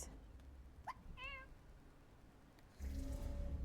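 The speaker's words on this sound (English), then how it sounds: "I heard a cat in here" In the video game Tchia, a cat gives a couple of short faint meows over a quiet ambient background, followed by a louder rumbling patch of game sound.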